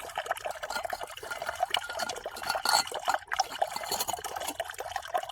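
Water pours steadily into a mug for several seconds, a continuous bright splashing trickle with slight gurgling fluctuations, close and alone without speech.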